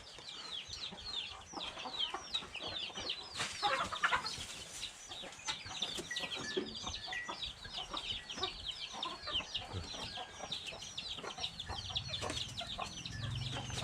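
Backyard chickens kept beside a house cluck and call continuously, many overlapping birds at low to moderate level, with some brief knocks and a low rumble near the end.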